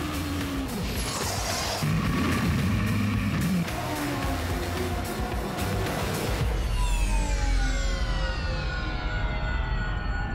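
A Super Formula single-seater race car screams past, its high engine note rising and then falling away in a Doppler sweep against loud continuous track noise, with no talking.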